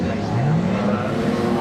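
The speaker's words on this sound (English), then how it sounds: "revs up, away he goes Neil Wallace" A Ginetta race car revs and pulls away from a pit stop at Snetterton during a club racing weekend, its engine note rising and sustained for under two seconds amid steady track noise.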